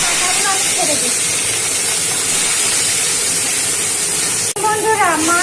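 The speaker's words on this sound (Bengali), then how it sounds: "তেলটা গরম হয়ে গেছে, এবার এই দেখুন মাছের মাথাগুলো আমি ছেড়ে দিচ্ছি।" Fish heads drop into hot oil and set off a loud, continuous hiss of sizzling up close, with a brief break near the end and a few faint squeaks over the top.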